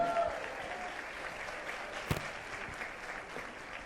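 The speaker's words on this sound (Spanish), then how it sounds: "Fuertes los aplausos, Ismael López Aguiar." Audience applause greets a communications speaker at a 2019 ethics talk, a steady, dense clapping wash of moderate level lasting a few seconds, with a sharper spike midway.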